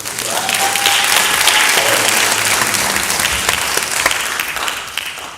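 Loud, full audience applause fills the room at the Beaumont United High School state championship ring ceremony, dense clapping swelling and holding for several seconds with faint voices and a brief tone beneath.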